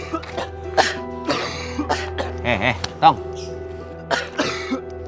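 Several harsh coughs and throat-clearing bursts, close by, scattered among people talking.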